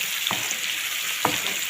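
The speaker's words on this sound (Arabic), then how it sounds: "انزل بالبصل بقى. اقلب بقى كله ببعض كده." Onions fry in a pan with a steady, dense sizzle, and two short scraping strokes come from stirring.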